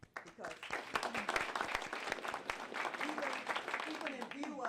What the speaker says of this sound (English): give your public schools a hand of applause for that